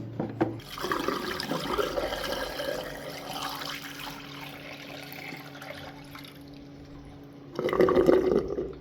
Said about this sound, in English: You can hear that filling and that will stop.